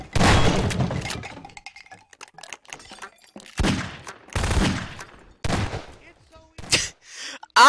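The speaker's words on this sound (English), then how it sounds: "this person's just gonna shoot all the boxes" Gunfire shooting boxes in a Garry's Mod prop hunt game, loud close bursts of rapid shots in several separate volleys with short quiet gaps and clicking between them, talk over it.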